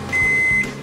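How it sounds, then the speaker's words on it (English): A microwave oven gives a single clear, high electronic beep lasting about half a second as it stops, loud and close in a quiet room. "The microwave is gonna stop again."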